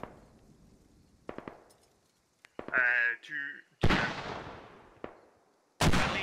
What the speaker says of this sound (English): Nestor gets pummeled by some mortar rounds